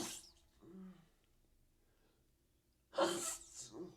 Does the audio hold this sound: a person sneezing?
yes